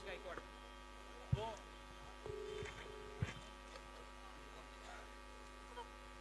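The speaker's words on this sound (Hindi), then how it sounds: "आणि यानंतर आपण ह्यांना फोन लावलेला आहे." A telephone call being dialed: a few short touch-tone beeps come in a quick cluster, set against a steady electrical hum with scattered clicks and faint background noise.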